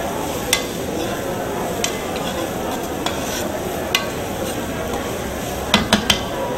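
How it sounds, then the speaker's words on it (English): Food sautéing in a pan with crushed red pepper flakes, a steady soft sizzle with occasional light clinks of a utensil against the pan, close and continuous. "We'll let this saute down a little bit."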